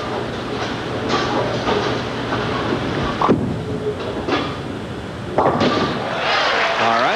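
A bowling ball strikes the pins to convert a 3-9 spare at the 1991 PBA La Mode Open, a loud clattering crash amid steady lane rumble and crowd noise, with further pin clatter following.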